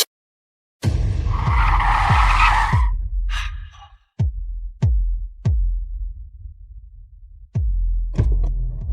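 A car pulls up, its engine throbbing loudly for a couple of seconds before cutting off, followed by a series of sharp thuds like doors and footsteps in a quiet setting.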